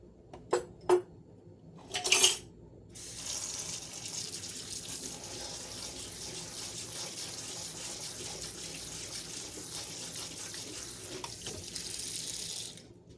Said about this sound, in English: I'm going to drain my potatoes and rinse them